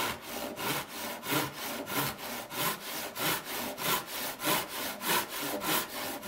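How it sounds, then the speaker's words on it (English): A handsaw cuts through the heel end of a wooden dory transom in steady, rhythmic strokes, about a dozen evenly spaced rasping pushes, close and clear with no talking. "I'm cutting the heel end of the transom off with a handsaw"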